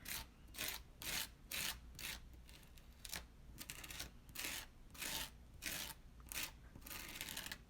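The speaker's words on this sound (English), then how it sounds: "So I'm just scraping off the excess." A tool scrapes excess off cardstock for a ladybug birthday card in a run of rhythmic rasping strokes, about a dozen close, soft scrapes in regular succession with short pauses between them.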